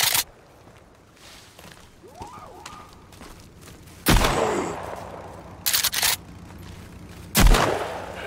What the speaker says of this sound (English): I love shotguns.